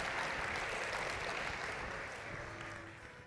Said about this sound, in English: Let's give another round of applause to Dr. Nasrallah